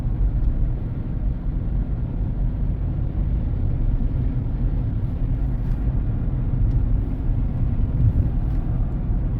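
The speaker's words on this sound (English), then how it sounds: "I think I got a bad wheel bearing." A car driving down the road at about 40 mph with a suspected bad wheel bearing, heard from inside as a constant low rumbling drone and road roar, steady throughout with no talking.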